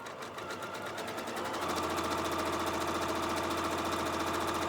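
A Janome sewing machine fitted with a circular sewing attachment hums steadily, rising after a brief slower start into a loud, fast, even whir that holds to the end with no talking.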